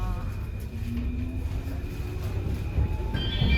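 A Paris metro train rumbles and rolls along the track nearby, with a faint tonal whine and a rising mechanical hum over a low steady rumble.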